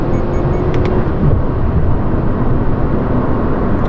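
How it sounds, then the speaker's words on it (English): A 2024 Subaru Crosstrek engine pulls at full throttle on a road with a truck ahead, heard from inside the cabin as a loud, steady low drone mixed with road and wind roar, no voices. "I'm actually flooring it right now."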